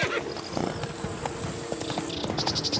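Roach, a horse in The Witcher 3: Blood and Wine, gallops in a quick steady clip-clop of hooves, with a short whinny near the end and faint background talk.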